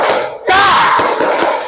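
Schoolchildren in a physical education class shout a loud spirit cheer together, a sudden burst of many young voices after a brief quieter moment, sustained and close.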